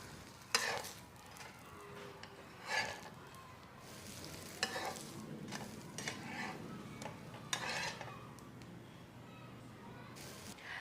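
Jowar flour amboli cooking in oil on a pan, giving a steady soft sizzle with a few sharper scrapes and taps of a spatula, close and moderately quiet.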